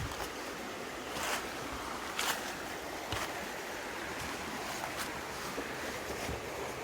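A river flows in a wooded suburban backyard spot, giving a steady broadband rush of moving water with a few soft splashes, heard close and alone without any talk.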